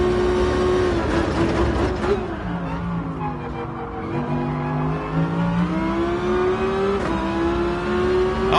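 The Tomahawk car in Gran Turismo Sport running at full power, a loud, close engine whine that dips and climbs in pitch as the revs change through corners, with no talking.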